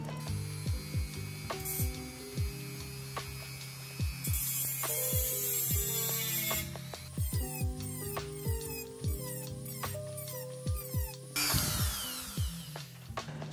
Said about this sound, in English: use the Dremel to cut some slots into the end